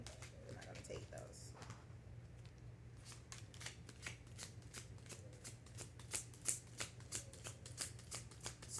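Tarot cards shuffled by hand, a run of quick crisp riffles and flicks that grows denser and sharper toward the end, with a low steady hum and pigeons cooing faintly in the background.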